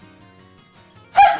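A single short, loud sneeze bursts out abruptly at the end after near silence.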